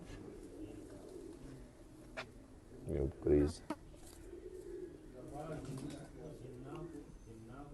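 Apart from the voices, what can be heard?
pigeon cooing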